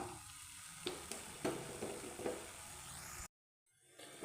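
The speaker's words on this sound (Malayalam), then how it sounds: "ഒന്ന് ഇളക്കി കൊടുക്കുക" Beetroot pickle sizzling steadily in a frying pan as it is stirred, with a few clinks of the spoon against the pan, close and fairly quiet, cut by a brief silence near the end.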